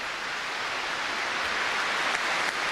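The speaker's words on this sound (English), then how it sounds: "And spontaneous applause breaks out in Westminster Abbey." Spontaneous applause fills Westminster Abbey at a royal funeral, a steady wash of clapping that holds evenly throughout and sounds somewhat distant in the large stone space.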